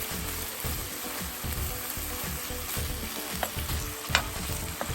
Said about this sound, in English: we're going to give that a good stir